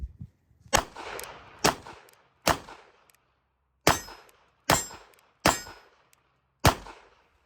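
Seven sharp gunshots from a Kel Tec P32 .32 pistol at a shooting range, loud and close, spaced unevenly about a second apart, each a crisp crack with a brief ringing tail.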